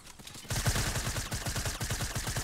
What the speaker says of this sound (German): Ja, ich schieße den Boden weg